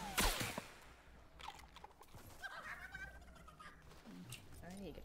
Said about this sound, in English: Is that a chicken?